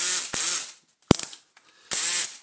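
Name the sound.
removing screws from a Numatic Henry vacuum cleaner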